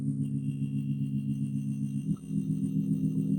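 Crystallizer effect on a lofi track, with the processed high pitches turned into a cricket-like shimmer over a steady low sustained tone; continuous and moderately loud, with a brief dip near the middle.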